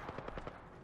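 Rapid gunfire in an Apex Legends match rattles in quick, evenly spaced shots, faint and somewhat distant under a dense background of game noise.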